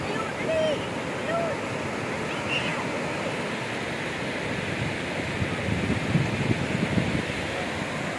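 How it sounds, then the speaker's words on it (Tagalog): Steady wash of ocean surf rolls continuously, mixed with wind noise, with a couple of faint high chirps early on. "Nalaki ng alon."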